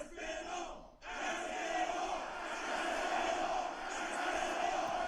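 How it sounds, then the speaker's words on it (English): Arena crowd in the UFC 6 video game rhythmically chanting the name Aspinall, a dense, sustained roar with a brief dip near the start, heard alone without commentary. "he's got the crowd chanting Aspinall"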